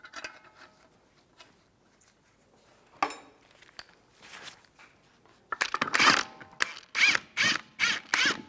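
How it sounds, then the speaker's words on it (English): A ratchet runs lug nuts onto a Chevrolet Cruze wheel, with sparse clicks early, then a dense run of loud, rhythmic ratcheting bursts close by toward the end. "Put the lug nuts on."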